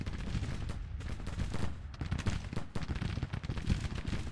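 Massed musket volleys from Civil War brigades in the strategy game Grand Tactician: The Civil War, a dense rolling crackle of overlapping shots with no pause over several seconds.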